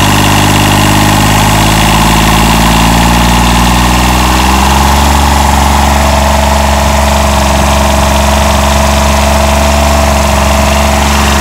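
A John Deere 332 diesel tractor engine running after repair, recorded loud and close: a steady, continuous diesel rumble that settles into a slightly changed tone partway through, with no voices.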